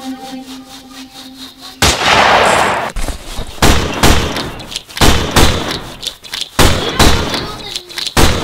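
Heavy gunshots from a gold buffalo rifle in a video game boom loudly in a series of sharp, punchy blasts with irregular gaps, a large first shot followed by repeated thuds, with faint talk in between.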